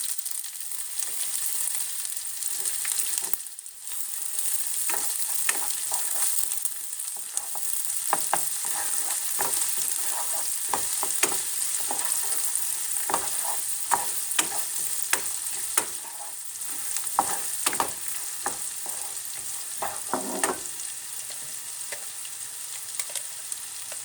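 Pistachios and onion fry and stir in a pan for stuffed oven chicken, giving a steady high sizzle broken by frequent scraping and clicking stirs, close and continuous with no talk.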